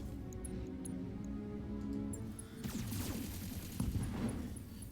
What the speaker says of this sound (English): Got the LRM explosion to take out the left torso.